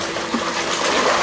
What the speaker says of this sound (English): Go ahead and swim in this and do freestyle again,